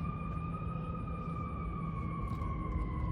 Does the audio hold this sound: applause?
no